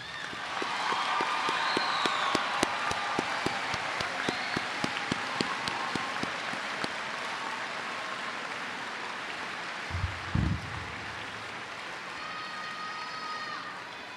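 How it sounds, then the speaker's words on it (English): Scattered clapping from a graduation ceremony audience honoring veterans and service personnel, a few seconds of applause from a moderate distance that tapers off, followed by low room ambience and a brief thump. "Can we give them a round of applause?"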